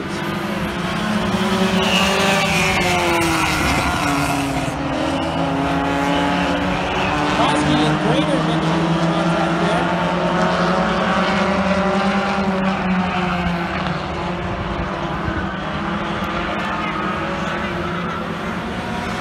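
Race cars roar continuously through the first lap of a RoadRunners main event, engine notes rising and falling in layered, overlapping sweeps as the pack passes, loud and dense throughout.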